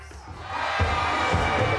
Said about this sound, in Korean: 엄마 아빠의 손을 잡고 마술 공연을 보러 온 아이들은 일제히 환호성을 지릅니다